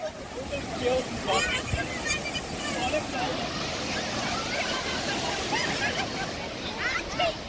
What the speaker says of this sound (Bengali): এই ঢেউটা দারুণ ঢেউ দিল।